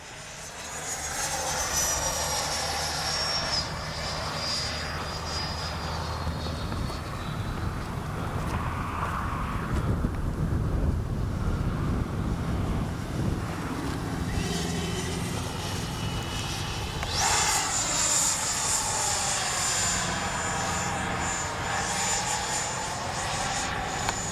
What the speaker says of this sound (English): That's an amazing F-22, absolutely amazing.